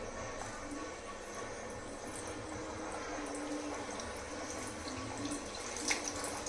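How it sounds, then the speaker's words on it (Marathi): Pea-stuffed kachoris fry in hot oil, giving a steady, dense sizzle and crackle that carries on without pause at moderate loudness. "आता ह्या कचोऱ्या आपल्याला तळून घ्यायच्यात."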